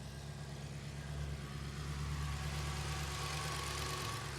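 A cold 2005 Maserati GranSport Coupe engine runs with a steady low rumble and slight knock, heard close up with no voices.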